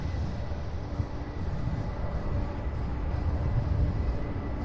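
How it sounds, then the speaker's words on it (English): A Sun Country Airlines Boeing 737-800 takes off from runway 35 right at Louisville SDF, a fairly faint, steady jet engine rumble with a slight rise toward the end. "Sun Country Airlines Flight 8436. That's a 737-800."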